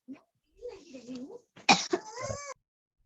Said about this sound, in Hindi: बहुत खांसी हो रही है.